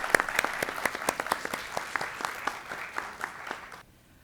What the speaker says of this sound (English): a big round of applause for them one more time